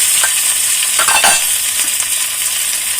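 Curry leaves, ginger, asafoetida and ground pepper sauté in a hot pan, a steady loud sizzle and hiss with occasional stirring scrapes, close up and without any voices.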